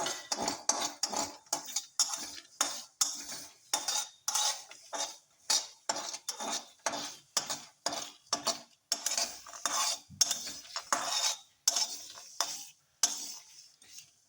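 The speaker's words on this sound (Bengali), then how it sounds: "এখন কিছু কাজু বাদাম, পোস্ত, দুটো লঙ্কা শুকনো ভেজে নেব। সবগুলো একসাথেই ভেজে নিলাম।" Cashews, poppy seeds and dried chillies are dry roasted in a pan, heard as a steady, rhythmic scrape-and-rattle of a spatula stirring them, close and quiet, with no talking.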